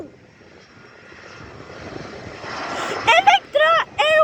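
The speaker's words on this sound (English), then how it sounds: "Also they landing Electra Airways, but it looks like a Ita Airways." An airliner coming in to land at an airport swells into a rising engine roar that grows louder, then people talk over it near the end.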